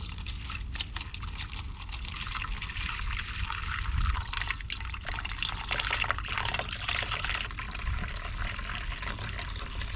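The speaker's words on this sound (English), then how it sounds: "Set this down in here and add a little bit of water." Water is poured into a dog dish, a faint, continuous splashing trickle with a brief louder gush near the middle, heard alone without talking.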